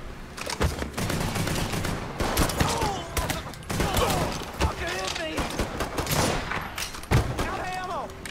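Rapid gunfire crackles through a Mafia 3 video game shootout, bursts of shots layered over music and game noise, while a player talks over the action.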